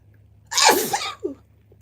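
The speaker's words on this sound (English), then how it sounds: "That was an ugly ass, a little bit of a painful sneeze." One loud, close sneeze with a sharp burst and a brief throaty tail, alone in a quiet room.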